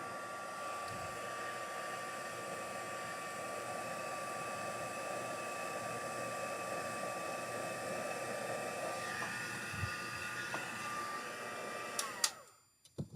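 A heat tool blows a steady, loud hair-dryer-like whoosh while melting embossing powder on a card, running continuously before cutting off abruptly near the end with a few clicks.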